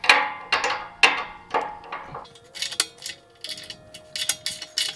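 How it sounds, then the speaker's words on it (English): Wrenches working loose the exhaust bolts on a car during an oil change, heard as a quick series of sharp metallic clicks and taps, louder at first and then a lighter rapid ratcheting patter, close by with no talk. "So I'm gonna get the wrenches and we're gonna take these two bolts off."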